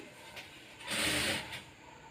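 A sewing machine stitching blouse fabric runs in one short whirring burst of under a second, set against a quiet room.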